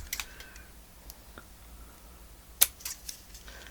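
Scissors cut through a sheet of master board, cutting it in half and trimming the edge. A few faint snips and rustles lead to one sharp, close cut, followed by a couple of lighter clicks.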